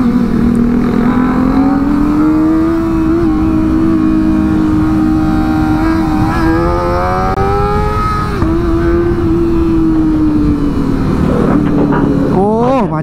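Dozens of Kawasaki ZX25R motorcycles riding in a group near Cirebon, a sustained loud engine drone with rising revs and shifting pitch, a sharp rev burst near the end.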